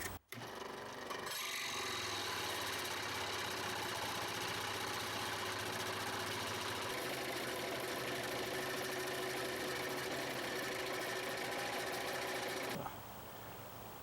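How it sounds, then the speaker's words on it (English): A scroll saw roughs out a hickory axe handle blank for an old Eclipse hatchet, running as a steady, loud motorized buzz that holds for about twelve seconds before stopping, leaving only faint room noise. "So now I'm going to rough it out with my scroll saw."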